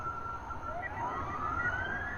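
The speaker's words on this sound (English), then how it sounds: "There's sirens blaring, and I see this huge trail in the sky." Emergency vehicle sirens wailing at night, a rising electronic tone sweeping upward over a low background hum, moderately distant and steady in level, with no talking.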